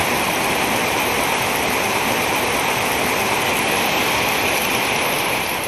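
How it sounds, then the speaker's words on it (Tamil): Heavy rain pours over the Mudumalai forest in Tamil Nadu's Nilgiris district, a dense, unbroken hiss that stays loud and steady throughout. "நீலகிரி மாவட்டத்தில் முதுமலையில் 1 மணி நேரத்திற்கு மேலாக கனமழை வெளுத்து வாங்கியது"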